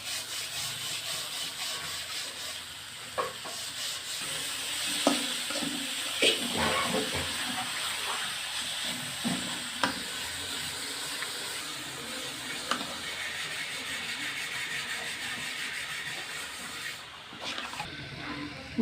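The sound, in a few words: stir-frying khesari (koloi) greens in a pan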